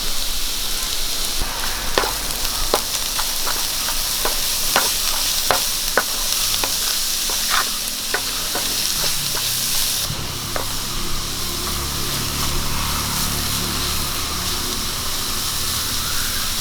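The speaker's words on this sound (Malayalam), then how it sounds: "നമുക്കിതിലേക്ക് ഒരു ക്യാപ്സിക്കം അരിഞ്ഞത് ഇട്ട് കൊടുക്കാം." Chopped capsicum stir-fried with prawns for fried rice: a loud, steady sizzle and hiss from the pan, with a run of quick rhythmic clacks from the spatula in the first half, and no speech.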